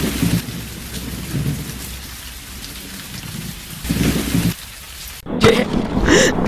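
A thunderstorm with steady heavy rain, loud and close, with rolling thunder swelling in bursts and a sharp crack near the end, no voices.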